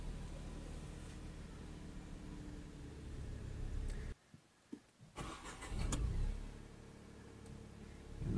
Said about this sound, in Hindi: मैंने गाड़ी स्टार्ट कर ली